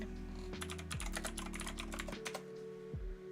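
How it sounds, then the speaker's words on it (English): Rapid keystrokes on a computer keyboard, an irregular flurry of clicks up close with a steady electronic hum and music tones underneath. "I'm not good at typing."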